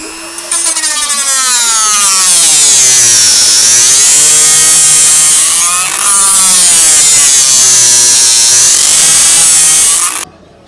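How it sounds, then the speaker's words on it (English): Power drill with a large bit boring a big hole through a wooden chopping board guitar body, a loud, continuous whining grind that rises and dips in pitch as the bit bites, ending abruptly after about ten seconds. "Maybe we'll have to drill in through that way with a big mama looch like this."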